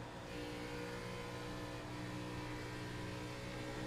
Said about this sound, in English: Hear that little bit of a blip after he got on the gas there in 3 and 4.